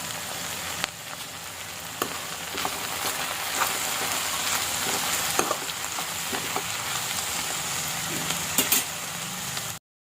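Okra fries in a pan with turmeric in a steady crackling sizzle, with sporadic clicks and stirring taps, close up and uninterrupted before cutting off abruptly at the end.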